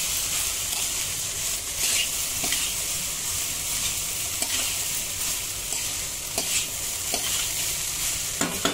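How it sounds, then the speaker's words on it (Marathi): Sizzling and scraping as prawn rice is stirred and mixed in a pan over a high gas flame, a steady frying hiss with periodic spoon strokes, close up, with no talking. "फास्ट गॅस करून सगळं मिक्स करून घ्यायचं"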